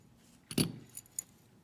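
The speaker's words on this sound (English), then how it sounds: "And with a bunch of keys." A bunch of keys for a Gerda Euro Cylinder lock jangles briefly up close, one clear metallic shake followed by a couple of lighter clinks.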